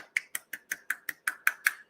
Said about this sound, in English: that was a one-hand clapping